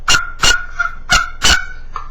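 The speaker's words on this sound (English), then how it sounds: "a handheld box that uses friction from the lid to the actual carved out box to imitate a female turkey" A series of raspy, yelping turkey hen calls made with a wooden box call, four sharp notes in an uneven rhythm, loud and close.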